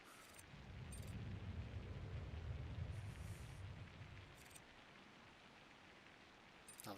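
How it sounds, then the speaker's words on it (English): Steady rain in the airport management game SimAirport, a faint, even hiss of falling water with a low rumble that eases partway through. "Of course, it's raining."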